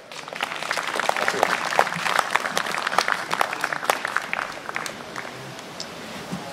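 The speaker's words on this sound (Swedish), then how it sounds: "Mikael Svensson, en applåd!" Audience applause at a Swedish folk music fiddlers' gathering, a dense steady clapping from many hands that holds for several seconds before thinning out and fading toward the end.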